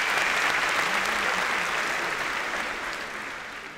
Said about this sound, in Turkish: Onların hepsine büyük bir alkış alabilir miyiz?